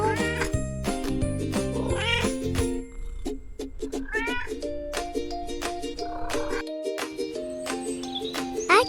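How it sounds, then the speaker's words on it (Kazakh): A cat meowing repeatedly, a series of close, clear, drawn-out meows and caterwauls following one another with short gaps, loud and alone. "Мысық."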